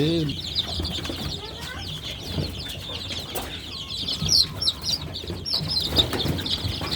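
Baby chickens freshly vaccinated against Ranikhet disease chirp and cluck continuously at close range, many thin high peeps overlapping in a busy, steady chorus with occasional wing flutters.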